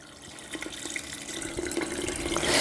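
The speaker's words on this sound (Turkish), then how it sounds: "hemen şöyle güzelce peynir altı suyumu ekliyorum" Whey poured into a 3-litre glass jar while making natural rennet for cheese, a steady liquid splash and trickle that grows fuller and louder as the jar fills, heard close with no talking.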